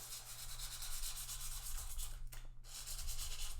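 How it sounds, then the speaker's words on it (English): Fine 600 grit sandpaper lightly dusting the tops of guitar frets during a partial fret dressing, a steady close rubbing hiss with barely any pressure that pauses briefly before resuming. "touching the tops with 600 grit sandpaper, we're just going to do another light dusting"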